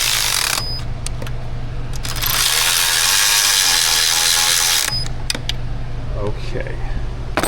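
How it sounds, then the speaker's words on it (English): A 10 mm ratcheting flex-head wrench is used to tighten nuts under a Jeep Wrangler 3.6. It gives rapid, loud metallic clicking in close-up, with a long continuous run in the middle over a steady background hum and some brief pauses. "So, 10 millimeter ratcheting wrench. We'll reach in there, tighten down those two nuts."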